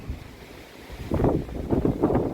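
Strong wind gusting outdoors on a mountain hike, a steady low roar that swells into louder buffeting gusts in the second half, with no talking.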